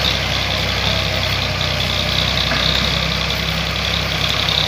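A four-wheel tractor engine labours while plowing hard soil in a wheat field, with a loud, continuous heavy rumble that stays close and steady throughout and no talking.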